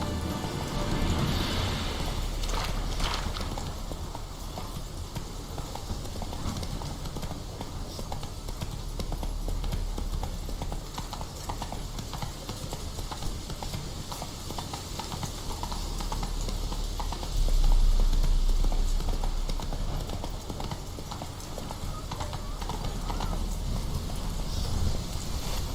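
Horse galloping in The Witcher 3: Wild Hunt, a steady stream of close hoofbeats over a low rumbling backdrop that swells briefly near the end.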